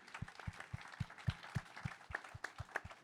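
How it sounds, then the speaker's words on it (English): Sparse, rhythmic clapping from a small audience greeting guests at a panel on global brands and the World Cup, distinct individual claps spaced roughly evenly, fairly faint. "Round of applause for our guests here, please, everybody."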